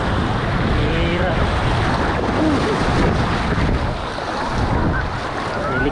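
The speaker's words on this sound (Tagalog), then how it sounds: "hinampas po tayo ng alon mga idol" Sea waves break and churn at a beach in Alicante, Spain, a loud, continuous wash of surf close to the microphone with heavy wind buffeting and no pauses.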